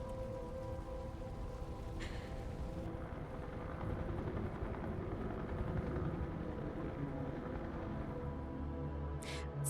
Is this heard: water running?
no